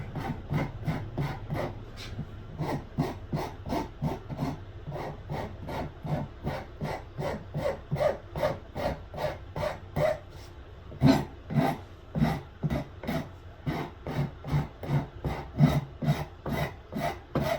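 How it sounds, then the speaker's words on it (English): Shinto rasp working a carved wood sculpture, fast rhythmic scraping strokes repeating steadily and close, each stroke a short rasping burst. "I'm going to take the Shinto rasp, and I'm going to start on the back and the forehead here."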